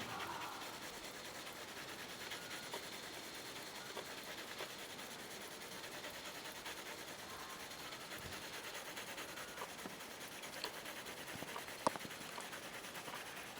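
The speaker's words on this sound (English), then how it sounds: "So there you go, that's the initial shading." Pencil shading a drawing of an apple, a steady soft scratchy rubbing that runs continuously and close throughout, with no talking.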